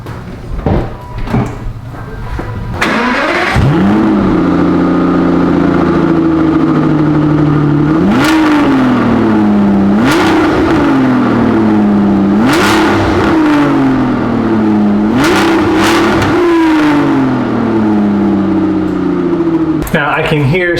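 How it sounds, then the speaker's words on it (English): A V12 Aston Martin, fuse 22 pulled, fires up with a loud flare, then idles roughly before a run of repeated throttle blips, each a rising rev that drops back, close and loud throughout. "now let's start up with fuse 22 removed."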